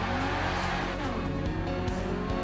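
A modified Audi RS6 roars hard in Forza Horizon 4, engine revving loud and close with tire squeal and shifting pitch during a head-to-head race, no voices.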